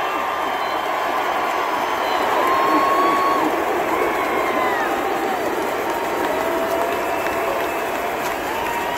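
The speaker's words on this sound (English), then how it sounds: "I want to give these guys a round of applause for all they've done for this university" A large crowd at a college football national championship celebration applauds and cheers in a stadium, a loud continuous roar of clapping with scattered whoops and whistles.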